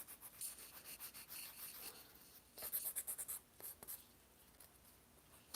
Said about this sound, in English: Let's start filing these nails.